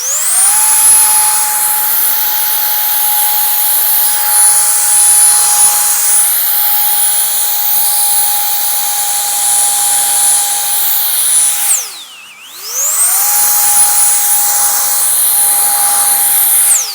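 Cordless turbo blower drying water off a car, a loud, steady high-pitched whine running continuously, briefly cutting out and spinning back up near the end, no voices.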